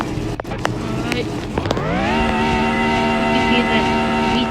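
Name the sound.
Pagani Zonda R V12 engine screaming in a video game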